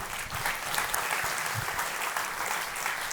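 A church congregation applauds steadily and densely, sustained clapping from many hands filling the room with no break.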